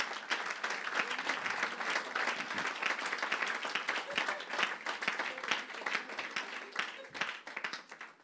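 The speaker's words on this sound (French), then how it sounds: "Oui, on va acclamer la parole de Dieu." A church congregation applauds during a Sunday service, dense continuous clapping from many hands that stays full and lively throughout before thinning slightly at the end.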